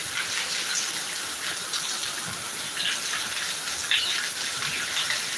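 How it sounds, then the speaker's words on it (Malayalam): Heavy rain in Thiruvananthapuram pours in a steady, dense hiss with occasional louder splashes, continuous and fairly close. "നമ്മളെ കിടിലം മഴ"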